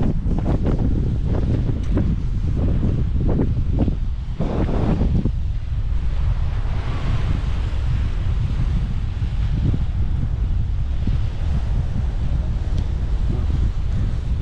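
Wind gusts buffet the microphone while surf washes steadily onto a beach at Caleta de Fuste, Fuerteventura, near Playa del Castillo; the roar is continuous and fairly loud, with no voices.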